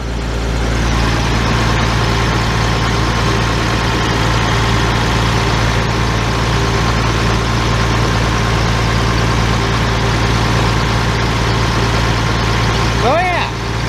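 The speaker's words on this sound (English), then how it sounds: "I'm gonna let that sit there and idle for a little bit and charge the batteries back up" A large 8700 machine's engine idles steadily and close by, a constant low heavy rumble and mechanical hum that holds without change for the full stretch, with a brief faint squeak near the end.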